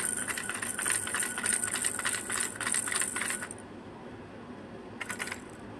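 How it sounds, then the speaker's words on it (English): A child's toy car has its wheels spun by hand, giving a bright, close whirring rattle that runs for a few seconds, stops, then returns in one short burst. "I like making the wheels spin."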